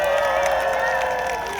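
A crowd at Lee Jae-myung's election campaign rally in Jeju roars with cheering and applause, a loud, dense and sustained wash of many voices that eases slightly toward the end.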